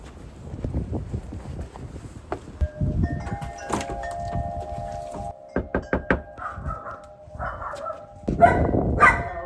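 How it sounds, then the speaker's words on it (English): A dog barks in short repeated bursts at the door of a house, close and fairly loud, mixed with wind buffeting and other household noise, with no talking. "I don't mind dogs at all, they're totally fine."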